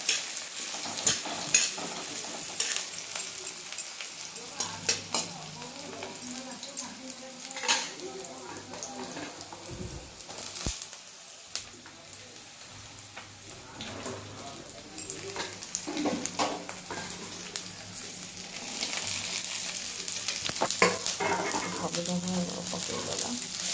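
Chow mein stir-fried in a pan sizzles and hisses while utensils scrape and clack irregularly against the metal, fairly close, with occasional bursts of nearby talk.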